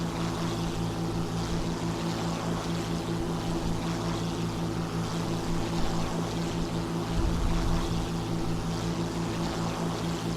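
The engine of an Fw-190 fighter plane in the video game War Thunder hums as a continuous, even propeller drone with a steady, layered tone and no pauses, flying at fairly low altitude.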